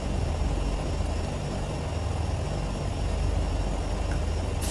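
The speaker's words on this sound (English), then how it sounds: "you can feel those engines really pulling. This aircraft wants to pick up a lot of speed" Twin turboprop engines of a Turbine Duke V2 in a flight simulator during the takeoff roll, a loud, steady, dense roar that holds without pause and has no talk over it.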